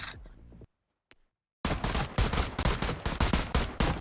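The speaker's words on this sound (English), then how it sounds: "Stop shooting, Trey." Rapid bursts of gunfire in a roleplay video game, loud and dense, starting after a short silent gap and continuing as a rattling volley of repeated shots.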